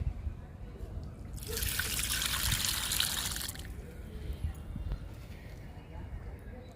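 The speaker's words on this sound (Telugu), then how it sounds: "ఈ మొక్కకు గోడిస్తున్నాను లిక్విడ్" Liquid fertilizer poured onto a potted plant, a steady splashing trickle lasting about two seconds near the start, set against quiet outdoor background noise.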